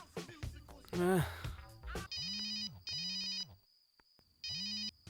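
A telephone ringback tone purrs three times in steady bursts with pauses between, following a moment of people talking nearby.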